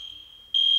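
A fire alarm sounds with a steady high electronic tone that suddenly jumps louder partway through, set off by roof work tripping a wire in the building; no one is talking.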